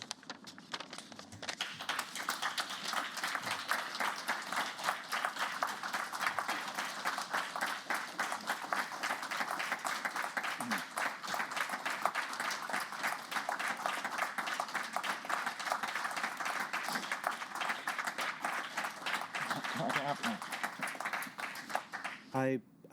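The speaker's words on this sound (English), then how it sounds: "I think the applause says it all." Sustained applause fills a hearing room after a survivor's testimony on the Treloar's inquiry, dense, even clapping holding at a steady level for over twenty seconds before fading at the very end.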